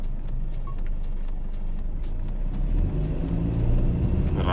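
A Mercedes-Benz C220 coupe with a 170 hp engine, set to Sport Plus, pulls under acceleration with a steady close engine rumble that swells louder toward the end; no one speaks.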